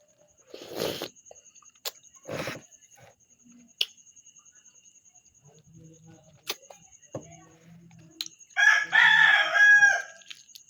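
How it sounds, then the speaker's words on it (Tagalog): Sparse sharp clicks and a few soft chicken clucks in a quiet rural yard, then a rooster lets out one loud, close crow near the end. "Maingay ka, manok."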